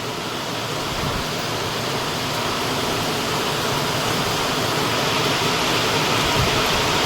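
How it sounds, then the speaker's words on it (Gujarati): Heavy monsoon rain pours steadily over a village, a dense, continuous roar of downpour that stays loud and unbroken throughout. "અમારા ગામમાં ફૂલ વરસાદ ચાલુ થઈ ગયો છે મુસળધાર વરસાદ પડી રહ્યો છે"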